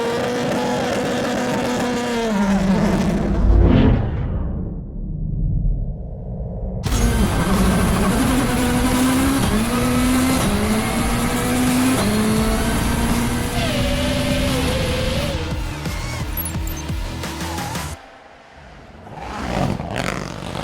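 A rally car engine revs and accelerates hard through gear changes during a two-lap sprint race against an FPV drone, loud and close, with rising and falling pitch sweeps and a brief lull partway through.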